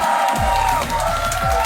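Studio audience of a comedy game show clapping and cheering loudly throughout, a dense continuous roar of applause and whoops.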